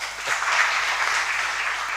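A conference audience at a national policy gathering in Uganda claps continuously, a moderately loud, even spread of hand clapping with slight swells and no speech.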